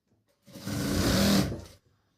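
A sewing machine stitches pant fabric in one short, loud burst of rapid motor-driven stitching lasting about a second, starting and stopping cleanly in a quiet room.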